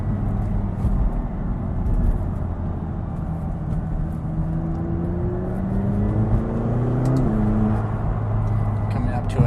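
A 2017 McLaren 570GT sports car being driven through corners, its engine a steady low drone with a rising pitch sweep as it accelerates, heard from inside the cabin with constant road rumble.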